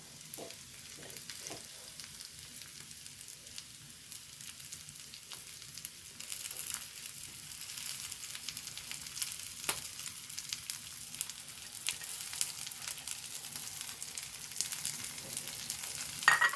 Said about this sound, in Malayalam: നമ്മളെ എണ്ണ ചൂടായിക്കുന്ന അതിലേക്ക് ഞാൻ നാളികേരും ഉള്ളി ഇട്ട് കൊടുക്കുന്നുണ്ട് കരിവേപ്പിലയും കൂടെ ഇട്ട് കൊടുക്കാം